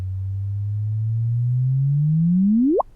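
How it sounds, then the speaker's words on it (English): Sonified gravitational-wave chirp from a binary neutron star merger: a clean low tone that slowly rises over about three seconds, then sweeps sharply upward into a brief whoop and cuts off, heard alone with no talking. "So here is the sound of that binary neutron star event we detected in"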